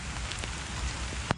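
Steady rain falls outdoors in a garden, a dense even hiss of drops striking surfaces throughout with a couple of slightly sharper close splashes, no voices.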